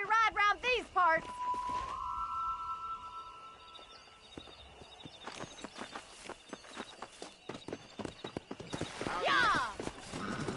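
Horses in Red Dead Redemption trotting then galloping, rapid hoof clip-clops building after a stretch of speech and a whinny, with riders shouting over the hoofbeats.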